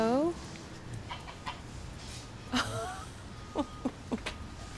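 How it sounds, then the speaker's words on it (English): A pet goose in Los Angeles, California honks and calls in several short bursts, a few falling and rising squawks near the microphone, with quiet background between calls. "3 years ago, he was befriended by a goose named Maria"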